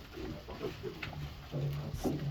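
Pigs grunting and oinking in a pen, a sow with her weaning piglets; several short grunts close by over about two seconds, with one louder, longer squeal-like grunt near the end.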